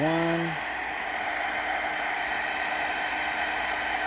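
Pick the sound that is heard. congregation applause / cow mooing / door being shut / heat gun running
heat gun running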